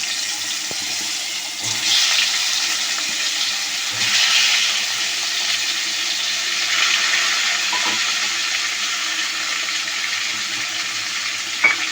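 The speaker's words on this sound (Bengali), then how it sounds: "আলুটা ভেজে নিচ্ছি ভালো করে, সামান্য হলুদও দিয়ে দিয়েছি" Potatoes fry in hot oil with a little turmeric while a chicken dish is being cooked, giving a steady, close sizzle that swells and eases in gentle surges throughout, with no talking.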